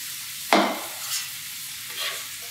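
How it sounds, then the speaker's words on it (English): Baby spinach hits a hot pan with a sudden loud burst of sizzle that quickly settles into a softer crackle. A couple of lighter stirring swells follow close by. "You saute it over a little bit, and then you want to add your baby spinach"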